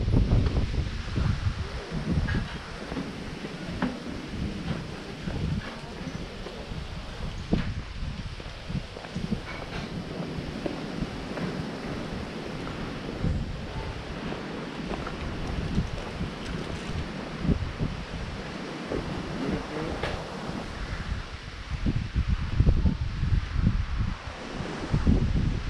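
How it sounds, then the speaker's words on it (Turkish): Strong wind gusts across an outdoor village square, producing steady rumbling buffeting against the microphone with rustling texture that swells and eases for the whole stretch, with no clear voices. "Çok rüzgar var ama"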